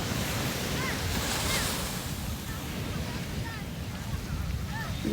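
Sea waves wash steadily onto a beach at Sidi Bouzid on a morning shore, a broad continuous surf roar with gusty wind buffeting the microphone.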